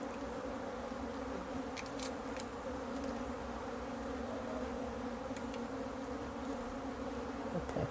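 Dense buzzing of a honeybee swarm shaken off a brood frame fills the air steadily and loudly, with no voices over it.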